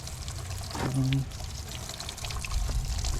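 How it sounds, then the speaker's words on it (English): Water running through flush muffs hooked to a 2019 Mercury 50hp outboard motor, a steady hiss and gush with a brief louder pour near the middle, while a person speaks over it. "we got water hooked up to it"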